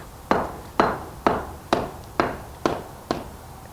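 Sharp, evenly spaced strikes knock at old brick on a chimney as it is loosened, seven close blows about half a second apart, each ringing briefly before the next.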